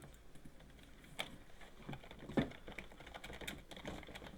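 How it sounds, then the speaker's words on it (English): Quiet clicking of fingers on a computer keyboard, irregular keystrokes tapping in uneven bursts at close range, soft and low in level against a faint room hiss. "Pardon my typing."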